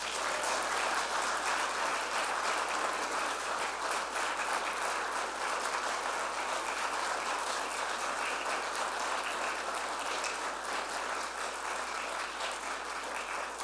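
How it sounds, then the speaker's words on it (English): Church congregation applauding during a Sunday service, a long, even wash of many hands clapping in a large room, steady from start to finish with a faint low hum beneath. "And so I want the rest of us to give you an applause for your"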